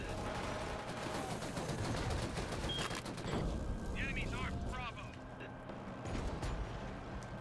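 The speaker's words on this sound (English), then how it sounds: "I'm gonna just pull out a freaking minigun and blast all these idiots" Rapid sustained gunfire from a minigun in the shooter Killzone Shadow Fall, a dense continuous roar mixed with game effects and talk throughout.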